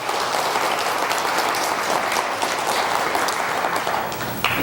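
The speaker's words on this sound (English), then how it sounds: "So let's give her a hand of applause." Steady, full applause from an audience at a church celebration event, dense continuous clapping at an even level throughout with no voices standing out.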